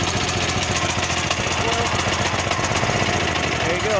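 A Champion generator engine runs just after a backfire start, chugging close by in a loud, rapid, steady rhythm.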